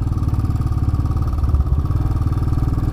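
A 2018 Royal Enfield Himalayan motorcycle engine runs steadily with a low, even thumping pulse, close and loud, with no talk over it.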